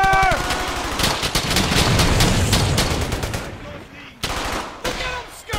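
Heavy automatic gunfire in the WWII shooter Brothers in Arms: Hell's Highway, rapid bursts of machine-gun and rifle fire layered close and loud, with shouted voices over the din before a brief lull and more shots.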